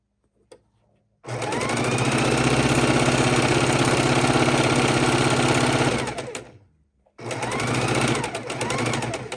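A sewing machine stitches rows of quilt blocks cut from precut fabric, a loud, steady, close mechanical whir that runs for about five seconds, stops briefly, then starts again.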